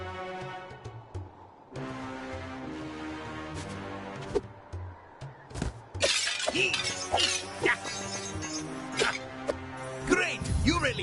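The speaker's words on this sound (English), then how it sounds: "You really smashed that object!" Objects shatter with glassy crashes in a Hotel Transylvania video game, several breaking hits scattered through cheerful game music while a voice talks over them.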